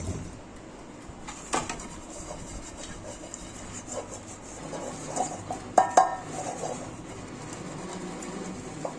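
A metal baking tray is handled and rubbed with a light coating of oil for a spiral (honeycomb) cake, giving soft scraping and rubbing sounds with a couple of brief clanks midway, close and fairly quiet, with no talking.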